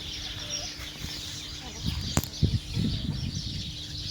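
A Brahma hen clucks in a farmyard, a few soft short clucks scattered among rustling and a brief sharp knock, with faint background noise throughout.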